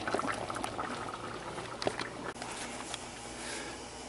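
Catfish courtbouillon with shrimp bubbling at a steady boil in a pot, a dense continuous simmering hiss with scattered pops and bursts, close and alone without any talk.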